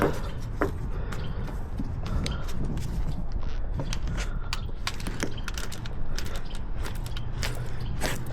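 A 1.5 inch cold knife blade cuts out the windshield of a 2011 Toyota Tacoma, giving close, irregular creaks, scrapes and clicks over a steady background hum.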